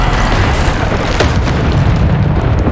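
Bombarda explosion spell blasting in Hogwarts Legacy, a loud sustained booming rumble with crackling debris filling the whole stretch.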